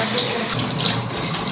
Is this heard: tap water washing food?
yes